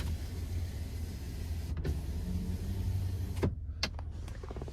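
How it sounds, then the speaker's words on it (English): The power rear window of a 2023 Ford F-250 Lariat Ultimate pickup runs with a steady low electric motor hum inside the cab, ending in a couple of short clicks and thumps as it stops. "And then you do have a power rear window."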